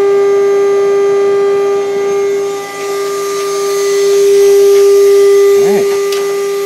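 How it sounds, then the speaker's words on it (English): A CNC machine's coolant pump and cooling fans run with a steady electrical hum and a constant whirring drone throughout, at moderate loudness with no speech. "The pump and my cooling fans back there, they kick on."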